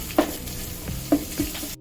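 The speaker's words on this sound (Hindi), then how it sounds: "लहसुन अदरक भी हो गया अच्छे से फ्राई।" Garlic and ginger paste frying with onions in a pan, a low steady sizzle broken by a few brief stirring scrapes, close and moderately quiet with no talking.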